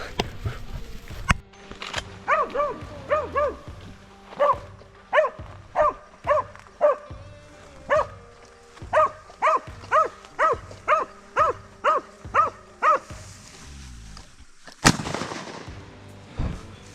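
A hunting dog barks steadily at an animal it has treed outdoors, a long run of loud, evenly spaced barks close by, with a sharp burst near the end.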